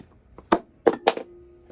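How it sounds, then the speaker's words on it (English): Selenite crystal pieces striking a floor, a few separate hard knocks with short bright clacks, close and fairly quiet, with nothing else around them. "That's the sound of selenite hitting the floor."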